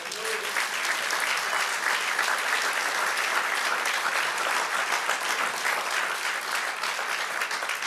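A crowd applauds steadily, dense sustained clapping that stays loud throughout.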